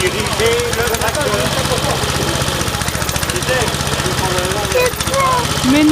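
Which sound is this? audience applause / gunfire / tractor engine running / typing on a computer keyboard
tractor engine running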